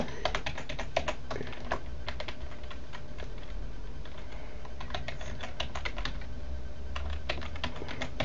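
Rapid, continuous keystrokes clatter on a computer keyboard at close range, in quick bursts with short pauses, with no talking.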